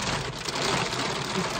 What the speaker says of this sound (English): This is an awful lot of hail.